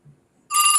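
A telephone starts ringing abruptly partway through, a bright electronic trill that carries on steadily after a brief quiet lull with a faint low murmur.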